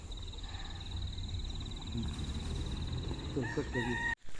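A backyard rooster crows in the morning, one drawn-out call near the end over quiet rural ambience, with a faint voice in the background.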